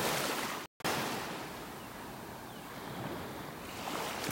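Waves break on a sandbar off a beach in North Naples, Florida, a soft continuous wash of surf with wind rushing across the microphone and a brief dropout near the start.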